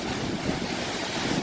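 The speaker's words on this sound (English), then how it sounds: "I can see why they call it Roaring River Falls." Roaring River Falls in Kings Canyon pours with a steady, dense roar that fills the whole sound, close and loud with no breaks and no voices.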